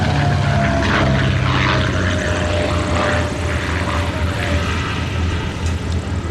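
A de Havilland DH 88 Comet propeller plane flies at a D-Day80 summer air show at Duxford, its engine drone loud and steady throughout, with a faint pitch sweep as it passes.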